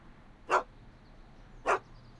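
A dog in Back to the Future: The Game gives two short, sharp barks about a second apart, clear and close over a quiet background.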